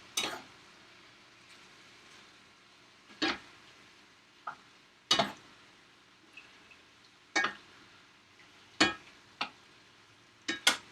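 Peppers are stirred into a pan with chicken and sausage for a ragout, giving a faint background sizzle broken by several sharp, close clanks and scrapes of a utensil against the pan.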